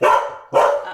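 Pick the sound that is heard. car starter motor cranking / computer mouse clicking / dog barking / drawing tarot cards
dog barking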